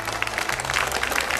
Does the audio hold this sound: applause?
yes